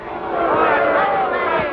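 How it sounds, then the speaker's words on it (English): Crowd at a 1930s boxing fight booing loudly, a dense roaring mass of voices swelling for under two seconds, close and continuous with no single voice standing out. "Can you hear them booing?"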